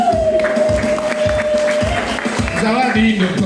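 A church congregation claps during a gift-giving service, with loud applause pulsing in a steady rhythm. A sustained tone and a voice run underneath it.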